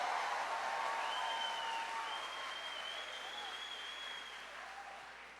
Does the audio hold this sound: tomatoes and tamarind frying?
no